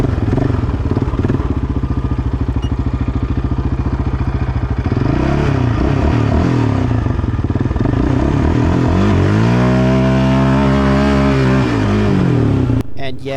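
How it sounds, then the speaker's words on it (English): A quad revs loudly during a first gear clutch dump on sand, a rapid throbbing engine note climbing as it pulls away, then a rising and falling rev sweep before cutting off abruptly. "And yes, that was only a 1st gear clutch dump to go."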